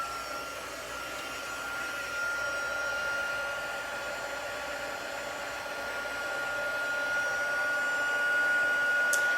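A heat tool runs steadily for the whole stretch, blowing hot air to melt embossing powder on cardstock for a stamped whimsical tree, a continuous loud whirring whoosh with a fixed whine and no talking.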